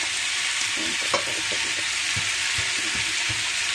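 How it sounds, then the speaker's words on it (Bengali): Potatoes frying in a pan sizzle loudly while radish and dal are tipped in, and a spatula knocks and scrapes now and then against the hiss. "এখন আমি মূলোটা দিয়ে দিচ্ছি"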